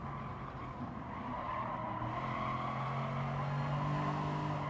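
A Gr.4 race car in Gran Turismo Sport brakes into the last corner of the Dragon Trail Seaside track, its engine droning loudly while tires squeal and skid in a sustained, rising whine.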